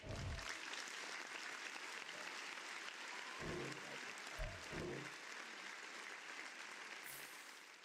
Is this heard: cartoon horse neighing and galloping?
no